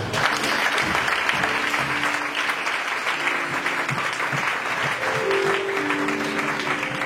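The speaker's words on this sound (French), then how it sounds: "Est-ce que tu peux acclamer le Seigneur?" A church congregation breaks into sustained, loud applause and cheering that fills the room, with a few voices calling out over the steady clapping.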